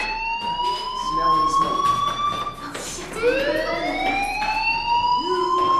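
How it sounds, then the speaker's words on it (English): A fire alarm in the video game Life is Strange, a loud electronic wailing tone that sweeps repeatedly up and down in a school setting, continuing steadily with voices speaking over it. "Hey, do you hear that fire alarm? That means you should be outside."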